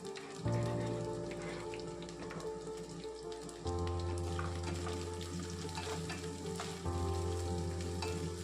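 Chopped vegetables fry in a pan while being stirred, making a soft, continuous sizzle with light scraping beneath steady background music.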